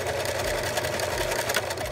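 A sewing machine stitches forward and backward while a small travel pouch is sewn, giving a continuous close mechanical whirring hum with steady rapid pulsing.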